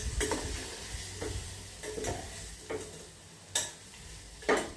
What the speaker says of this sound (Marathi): वर हलवून घ्यायचं आहे सगळं